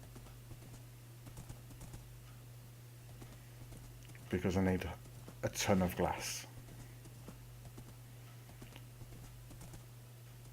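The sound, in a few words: horse hooves clip-clopping in a video game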